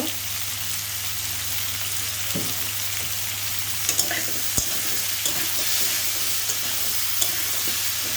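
Raw banana curry with salt and turmeric sizzles and fries in a pan, a continuous steady hiss with occasional scraping stirs and small clinks, close and alone without talk.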